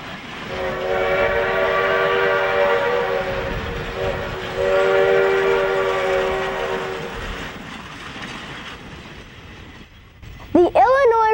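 A steam locomotive rumbling past at the Illinois Railway Museum with a sustained horn-like tone, fading toward the end as a brief whistling squeal rises.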